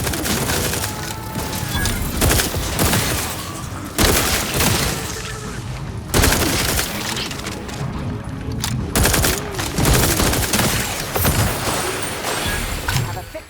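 Dense gunfire in the video game The Outer Worlds 2, with sustained rapid shots, booms and impacts in loud near-continuous bursts, broken by a few brief gaps, with game voices mixed in.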